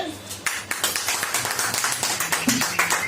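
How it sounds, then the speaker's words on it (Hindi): Congregation at a Hindi-language church sermon claps together in a steady, fairly quick rhythm, close and moderately loud, with a voice briefly over it. "तालियां बजाइए"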